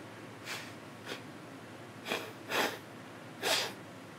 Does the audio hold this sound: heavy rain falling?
no